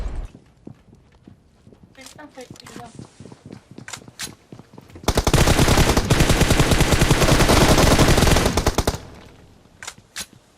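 Rapid automatic gunfire in a shooting video game, a long sustained burst of loud shots after scattered single shots and footsteps, with players talking over it.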